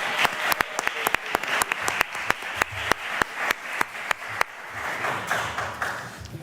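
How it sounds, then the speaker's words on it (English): An audience at a cyber games draft day applauds a coach walking to the podium, steady clapping with sharp individual claps standing out close by, gradually thinning toward the end. "Let's give him a round of applause."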